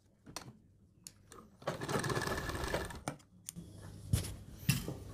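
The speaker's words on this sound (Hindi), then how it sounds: "हम इसको ऐसे बराबर करेंगे और यहाँ पर एक सिलाई लगा देंगे तो ये जुड़ जाएगा" A sewing machine stitches buckram neck pieces for a suit: a steady mechanical whirring run lasting over a second, then shorter stitching bursts, with a few taps and clicks around them, close and fairly quiet.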